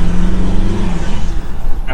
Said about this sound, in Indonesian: Tanjakan pun sekarang gue nggak perlu ngegas dalam-dalam, ini gue cuma gasnya per 4.